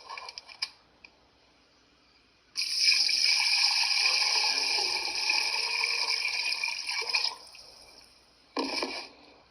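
A gallon of water poured from a jug into a cooking pot holding a ham hock for Kentucky-style beans, a steady splashing stream of several seconds that stops, then a brief final splash.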